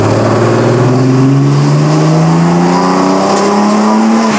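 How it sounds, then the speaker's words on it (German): A BMW 7 Series engine taken to full throttle from about 2500 rpm, its loud, continuous note climbing steadily in pitch as it revs, close and alone for the whole stretch. "Und jetzt tritt mal Vollgas rein."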